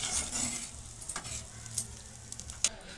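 Prawn curry simmering in a pan after water is added: a quiet, steady bubbling hiss with faint scattered clicks of stirring, soft and close.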